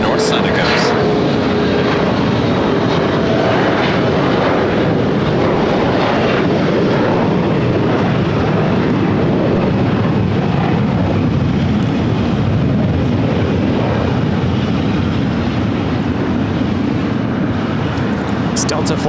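Loud, sustained takeoff roar from a Delta Airbus A330neo jet departing runway 24 left at LAX, a thick rumbling blast that fills the air steadily, with voices talking beneath it.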